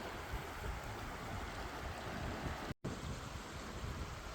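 Creek water flowing steadily at Cedar Creek in Pennsylvania, a broad continuous wash with no voices, broken only by a brief dropout partway through.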